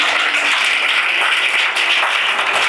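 A church congregation applauds and cheers for Jesus, steady loud clapping from a crowd that fills the room without pause.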